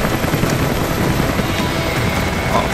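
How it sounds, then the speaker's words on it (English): A helicopter in the video game Rise of the Tomb Raider, a steady loud rotor drone with low chopping beats running throughout, no voices. "Oh, where is the helicopter?"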